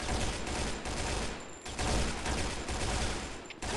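Rapid automatic gunfire in the shooter game Point Blank Strike, dense continuous bursts filling the moment with only brief gaps, loud and up close without speech.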